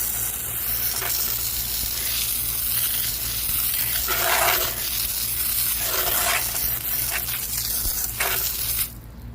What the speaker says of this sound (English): we'll just spray it down and I'll let it sit